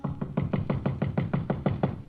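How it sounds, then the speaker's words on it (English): Knocking on a door as a radio drama sound effect: about ten steady, evenly spaced raps, close and firm, with no talking over them. "I hear a knocking on my door"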